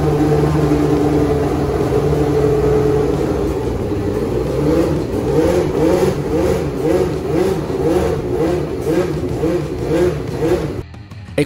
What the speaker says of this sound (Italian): godetevi il canto del suo motore